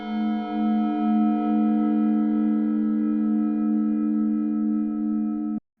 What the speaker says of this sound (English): It's a set of cymbals connected with a wire which resonates heavily,